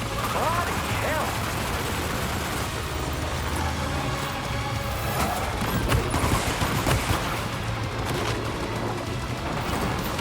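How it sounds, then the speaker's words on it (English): Sustained gunfire fills a battle in the video game Death Stranding 2, a dense, continuous barrage with scattered heavier bursts, loud and steady, with a voice speaking over it. "Opening fire now."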